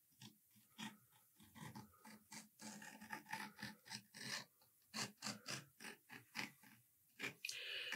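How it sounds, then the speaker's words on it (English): Steel stitch groover cutting a groove into the top side of a leather single-loop holster, giving a series of short, close rasping strokes in an uneven rhythm, growing denser and sharper toward the end. "I'm just going to cut a stitch groove in the top side of this."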